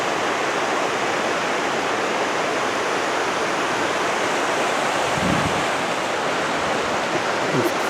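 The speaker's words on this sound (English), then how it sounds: "Another creek crossing." The Muddy Fork creek on Mount Hood rushes past a snowy trail crossing in a loud, dense, unbroken roar of water, close by and steady throughout, with faint hints of movement nearby.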